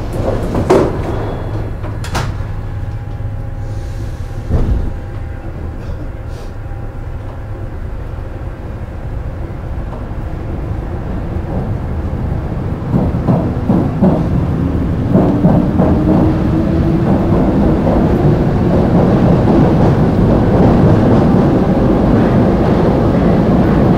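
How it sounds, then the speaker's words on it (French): An old 1960s Paris metro train with manually opened doors rattles and clatters steadily as it runs, with rhythmic clicks over the tracks and a rising rumble, loud and close. "avec ses trains des années 60 aux portes à ouverture manuelle et les cliquetis caractéristiques"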